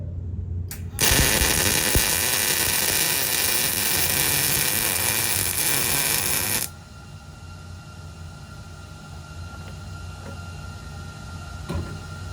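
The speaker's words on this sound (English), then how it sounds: "I'm going to drop my hood, practice my weld moving across this" A MIG welder runs a practice bead across a workpiece, a loud, steady crackling hiss that starts abruptly, holds for about six seconds, then cuts off, leaving low room hum with no talk.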